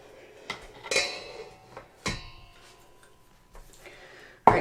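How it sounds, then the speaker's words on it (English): Salt dough of flour and salt being mixed with a spoon in a mixing bowl, a few sharp separate clinks and scrapes against the bowl with quiet gaps between, ending in a louder knock. "So, I'm going to mix this real quick, okay?"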